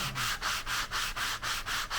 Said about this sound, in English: I have a 400 grit sanding block.